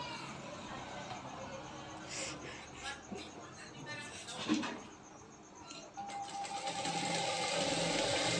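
Sewing machine stitching a katori blouse, a steady mechanical whir that runs in spurts, grows louder and more continuous toward the end, with someone speaking over it.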